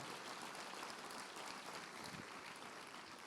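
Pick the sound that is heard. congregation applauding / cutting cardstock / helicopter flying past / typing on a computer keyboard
congregation applauding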